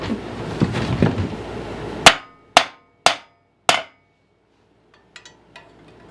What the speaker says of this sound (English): but I do have a big enough hammer.